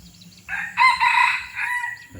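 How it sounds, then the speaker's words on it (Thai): Hybrid junglefowl rooster, the flock leader, crowing once up close, a loud drawn-out call with several rising and falling segments over faint background noise. "ขันเสียงป่าเพราะๆครับ"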